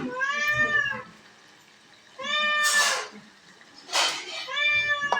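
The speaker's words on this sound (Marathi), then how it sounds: "हे इकडे एक बसल्या बोंबटतोय" A cat meows loudly and close, three drawn-out wailing calls separated by pauses while waiting for biryani being cooked, with a couple of short noise bursts between them.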